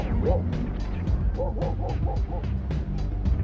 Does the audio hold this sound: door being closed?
no